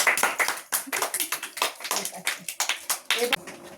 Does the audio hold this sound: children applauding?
yes